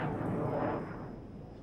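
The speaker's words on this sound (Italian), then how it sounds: "Questo è uno dei pochi jet al mondo in grado di realizzare questa manovra" Solo Frecce Tricolori jet at an air show climbing straight up at over 700 km/h, its loud broadband engine roar slowly fading and thinning as it recedes, with no talk over it.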